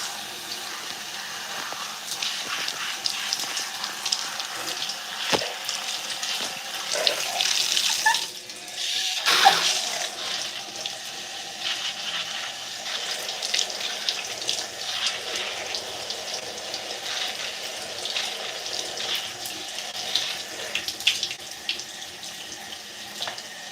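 Water running from a tap while hair is rinsed, a steady close splashing rush lasting the whole stretch, briefly louder and more broken in the middle as the stream is disturbed, with no talking.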